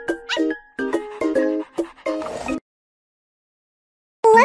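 A cartoonish puppy in a pet salon video game lets out a quick run of yappy barks and whimpers, then falls silent before a short chime-like sound at the end.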